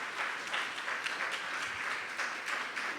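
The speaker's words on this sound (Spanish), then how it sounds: "Un aplauso para los niños" A church congregation applauds for the children, with a steady, even patter of many hands clapping together. The applause is fairly loud and continuous, with slight swells and no talking over it.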